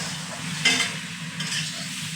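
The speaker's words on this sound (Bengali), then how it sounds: "দিয়ে আবার মশলাটা কষিয়ে নিই।" Spiced masala for a Bengali tarka dal, with cumin powder, salt, tomato and a little sugar, sizzles steadily in a pan while being stirred, giving a continuous close frying hiss with a few brief louder scrapes.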